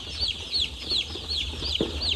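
Newly hatched chicks on a chicken farm cheep repeatedly in high chirps while a low, steady hum runs underneath; a single lower cluck cuts in near the end.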